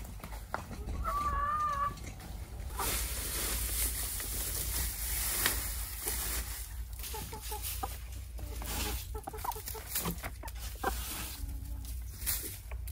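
Hens in a mountain village cluck and call intermittently over steady low background noise, with a few brief higher calls and faint rustling throughout.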